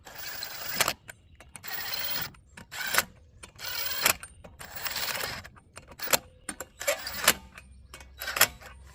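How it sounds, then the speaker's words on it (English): Impact wrench running brake bolts down snug on a 2007-2014 GMC Yukon during a front brake pad and rotor job, several short loud rattling bursts separated by pauses, close by with no talk. "I'm going to take my impact and just run these down, not tight."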